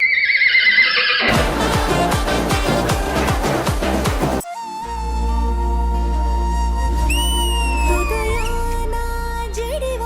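A horse whinnies as a sound effect in a Telugu TV comedy dance show, rising over loud musical stings and a sustained low drone, fairly loud and brief.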